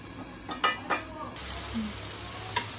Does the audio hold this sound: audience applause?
no